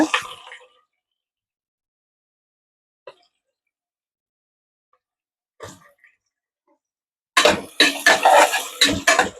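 Sliced onions drop into a hot pot of oil for bagara rice, a brief scrape and soft tap, then a long quiet stretch before a loud crackling sizzle rises near the end.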